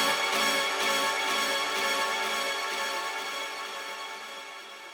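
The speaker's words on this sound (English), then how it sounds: "I exported this trumpet with a lot of reverb in loop, and it sounds like this." A sampled trumpet loop drenched in heavy reverb, Oriental Soloist 2, plays alone as a dense, sustained, washed-out tone with soft pulsing repeats that slowly fade.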